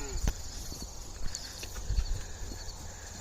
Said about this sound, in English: So she set up a little makeshift jump for her horse.